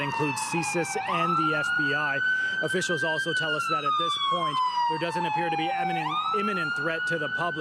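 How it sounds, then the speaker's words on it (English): A loud ambulance siren wails and sweeps up and down continuously on a major downtown Toronto street, with someone talking steadily over it. "Now, you can hear the ambulance behind me."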